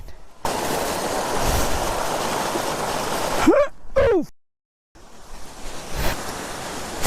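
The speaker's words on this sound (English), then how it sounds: "So that is the main waterfall." The main Wah Rashi Falls near Syntung village in Meghalaya give a loud, steady roar of rushing water. A couple of brief whistling chirps come partway through, then a short dropout to silence before the roar resumes.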